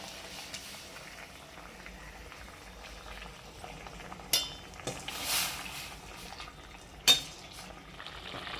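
A pot of tamarind broth bubbles at a steady simmer, with occasional clinks of a utensil against the pot.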